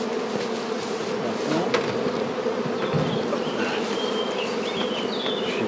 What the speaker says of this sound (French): Là, vous voyez, les autres abeilles reviennent, c'est normal.